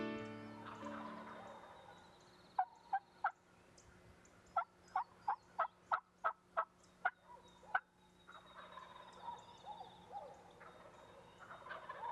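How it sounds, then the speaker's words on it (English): A wild turkey in spring gobbles close by in a rapid burst of sharp, rattling calls, then gives a longer run of evenly spaced gobbles, with quiet outdoor ambience between. "my son Matt is mesmerized by the intense gobbling"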